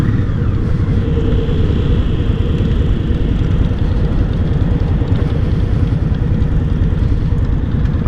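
An Indian Scout 60 motorcycle engine under way on a ride, a loud, steady low drone mixed with wind rush, constant throughout with no speech.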